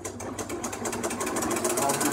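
Janome Flower Stitcher sewing machine running at maximum speed, a fast steady rattling needle rhythm, close and fairly loud, continuous throughout.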